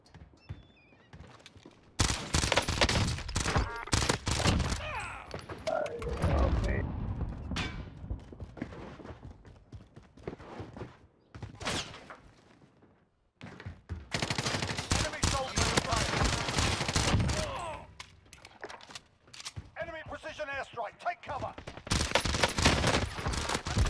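Repeated bursts of automatic XM4 rifle fire in Warzone, loud, close clusters of shots separated by short pauses, with players talking over the action.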